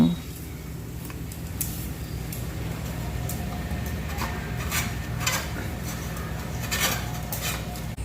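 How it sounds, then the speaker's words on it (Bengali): A green coconut is cut with a boti blade, giving irregular sharp knocks and scraping bursts over a steady low background hum. "ডাবটাকে আমি এখন বটি দিয়ে কেটে নিচ্ছি"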